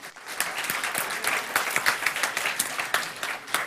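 Audience at a Java EE tech talk applauding after a working live demo, a brisk burst of clapping from a moderately sized crowd, steady and close throughout.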